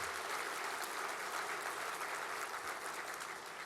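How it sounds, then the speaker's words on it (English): A house audience at a 2010 National Philanthropy Day event applauds honoree Marie Hall Brown, a continuous, evenly textured wash of clapping heard faintly from a distance. "How about a nice round of applause for Marie Hall Brown"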